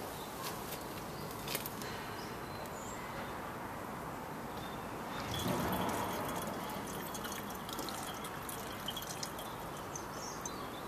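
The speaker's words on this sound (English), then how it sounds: "So let that funnel drip a little bit." Faint, irregular drips of etching solution falling from a funnel while copper circuit boards are being etched. A brief, slightly louder liquid splash comes midway over a quiet background.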